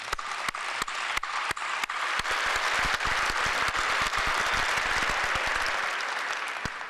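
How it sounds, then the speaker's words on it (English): Large convention audience at the Alaska Federation of Natives applauding village public safety officers after a governor's address, with steady, dense clapping and sharper individual claps standing out. "Let's give them a round of applause."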